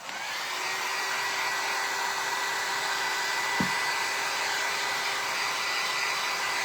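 A hair dryer blows a steady, even whoosh for the whole stretch, drying Dixie Belle chalk paint on a thrifted furniture piece being given a steampunk patina finish, with one brief click partway through.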